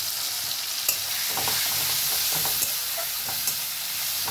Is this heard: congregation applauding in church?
no